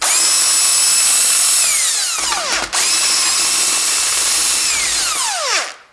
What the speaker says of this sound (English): This is crankshaft bearing bolt. And now I remove all of these bolts.